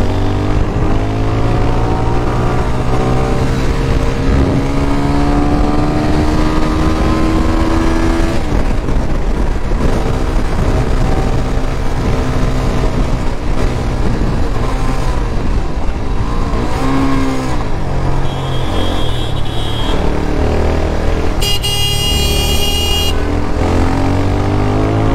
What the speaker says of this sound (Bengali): একটা হাই সিসি বাইক চালাইতেছে।